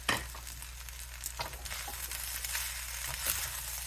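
Fried rice with green onions being stir-fried Chun style, a steady sizzle with scraping spatula strokes as it is turned up from the bottom of the pan, close and continuous with no talking.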